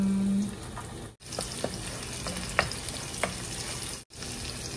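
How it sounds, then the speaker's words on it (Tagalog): An onion sautéing in a pan gives a steady close sizzle with a few sharp clicks of a utensil stirring, broken by two brief dropouts. "saute your onion."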